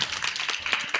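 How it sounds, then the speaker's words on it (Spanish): Children clap in a church class, a brief burst of scattered, uneven claps lasting about a second. "Un aplauso"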